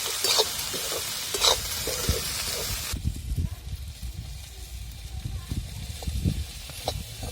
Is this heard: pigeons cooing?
no